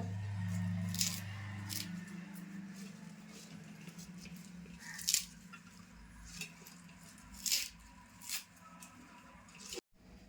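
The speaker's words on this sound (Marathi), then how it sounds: "आता भाजी मी तोडून तोडून घेतली आणि आता साईडला ठेवते" Soft crisp snaps and rustles of fenugreek leaves being torn by hand, a few sharper pops spread over a quiet room with faint background hum.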